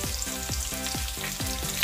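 Crushed garlic sizzling in hot oil in a pan with cumin and asafoetida, a loud, steady frying hiss with rhythmic scraping strokes as the pan is stirred.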